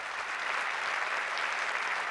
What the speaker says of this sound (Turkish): lütfen büyük bir alkış